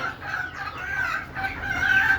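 Native country chickens clucking and crowing in a group, a continuous loud overlapping chorus of calls close by with no talk.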